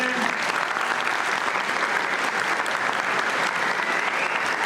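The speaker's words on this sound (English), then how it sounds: "Round of applause for Tiny Tim." A school assembly audience at a Charles Dickens performance gives a round of applause for Tiny Tim, with dense, continuous clapping from many hands filling the room at a steady, fairly loud level.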